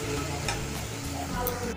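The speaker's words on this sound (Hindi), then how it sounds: "टोमेटो और ग्रीन चिली पेस्ट, इसको मैं डाल दूंगी इसमें थोड़ी देर के बाद, मैं अच्छे से फ्राई कर लेना है" Tomato and green chili paste fries in a pan, a short, continuous sizzle with light stirring noise at close range, no one speaking.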